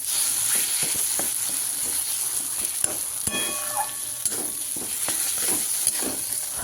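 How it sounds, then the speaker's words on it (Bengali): Tomato and spices sautéing in a pan for a rohu fish curry, a continuous close sizzle and hiss with repeated scraping stirs and occasional light ticks throughout. "এই টমেটো আর এই মশলাটা বেশ ভালো করে আবার একটুখানি কষিয়ে নেব"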